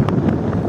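A short burst of strong wind at the Ilocos Norte windmills blasts the microphone with steady, heavy buffeting.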